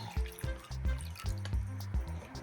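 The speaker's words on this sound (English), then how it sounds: "Then you need to pour it into one of your cups." Egg dye liquid poured into a cup for dyeing Easter eggs, a close, soft liquid trickle with a few splashy pulses, no talking.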